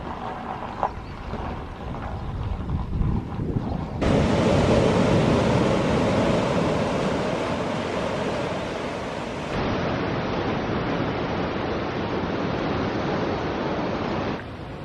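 Surf washes steadily onto Porthallow Beach near St Keverne on the Lizard Peninsula, Cornwall, in February, a continuous broadband roar that swells louder after a few seconds and carries on with wind buffeting the microphone, with no voices.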